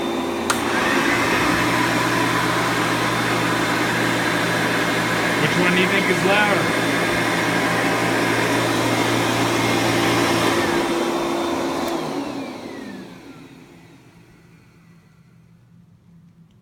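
Two vacuum cleaners, a Clean Air and a Direct Air model, run together in a steady loud whirring roar with a high whine on top; a person asks a brief question over the noise, then the motors wind down and fade near the end.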